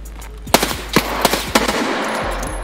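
Gunfire in the video game Escape From Tarkov: several sharp shots and short bursts crack out in irregular succession, loud and close, with brief decaying echoes between them and no talking.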